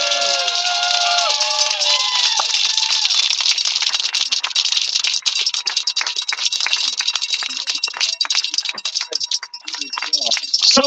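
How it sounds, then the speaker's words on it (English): A crowd greets rowers finishing the Atlantic rowing race in Antigua with a sustained clatter of clapping, loud and continuous, with some whistles and cheering early on. "So again, a big applause, ladies and gentlemen."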